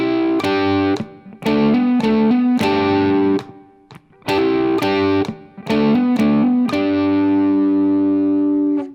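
Distorted electric guitar plays a section of a song: chunky, sustained double-stop chords in short repeated phrases with brief gaps, loud and clear with no talking.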